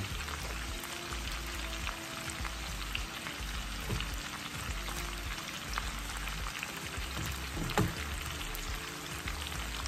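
Onions sautéing in butter with a little sugar in a pan, a steady close sizzling crackle with faint occasional stirring scrapes.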